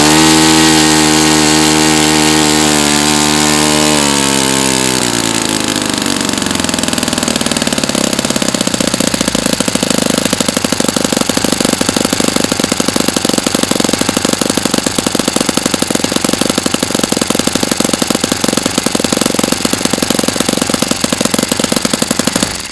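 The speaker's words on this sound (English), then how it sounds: "this engine, since it's not really fully broken in, obviously, it's not going to want to idle as low and as consistently as it will when it's broken in" A Saito FA-45 MkII four-stroke model airplane engine runs on its first run, rising from a rough low idle into a loud, steady high-rev buzz that continues unbroken for the rest of the clip.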